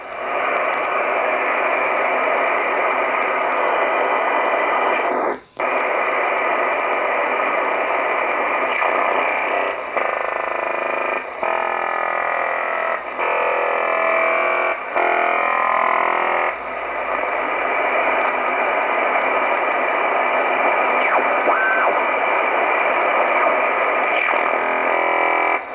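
Shortwave CB radio reception on 27.555 MHz during good propagation: a continuous loud band of hiss and static lasting the whole stretch, with brief dropouts and warbling, garbled fluttering signals drifting through the noise.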